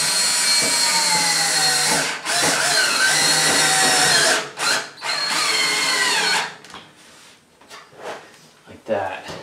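A power drill drives screws into a wall stud just above a steel bathtub flange with fender washers, giving two long loud whirring runs that bog and rise in pitch, followed by quieter clicks and handling noise.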